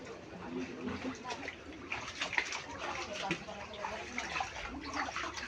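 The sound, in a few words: wading through knee-deep floodwater after overnight rain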